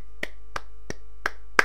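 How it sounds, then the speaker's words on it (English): Single hand claps ring out one at a time in a quiet room, five sharp, evenly spaced claps about a third of a second apart over a steady low electrical hum, the last one loudest. "that's me clapping"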